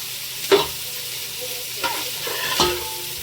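Onions brown in a frying pan for chicken biryani, a low steady sizzle broken by three sharp spatula scrapes and knocks against the pan, close and fairly loud with no talking.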